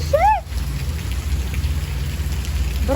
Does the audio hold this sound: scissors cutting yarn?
no